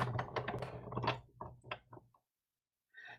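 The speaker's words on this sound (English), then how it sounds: "And then you're going to run that through the Big Shot." A Big Shot die-cutting machine cranks cardstock through its rollers, giving about two seconds of close, ratcheting mechanical grinding and clicks that stop abruptly, then a short faint scrape after silence.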